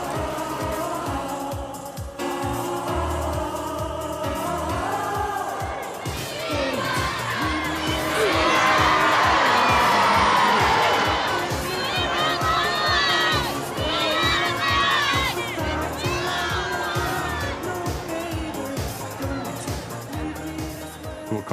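A large crowd gathered for Princess Diana cheers and shouts continuously, swelling louder in the middle with high excited calls and whoops, with some speech mixed in.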